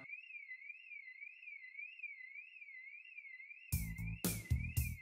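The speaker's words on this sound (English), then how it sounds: "The system alarm went on and on as the tech crew started to shut down systems." During an aborted launch, a system alarm sounds as a continuous, rhythmically warbling electronic tone, with harsh, loud bursts of noise breaking in near the end.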